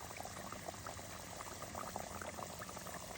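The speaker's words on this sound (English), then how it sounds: "See how we have that light boil? That's what you want." Cooking oil frying fries at a light boil, a soft, even bubbling crackle with tiny popping bursts scattered throughout, steady and fairly faint, with no one talking.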